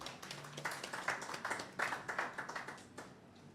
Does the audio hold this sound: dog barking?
no